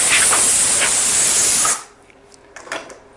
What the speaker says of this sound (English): this is actually a better place for dusting and oiling the chain